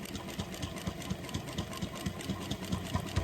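A sewing machine runs a short back stitch on a tote bag, giving a continuous close, even, rhythmic whir with no talking.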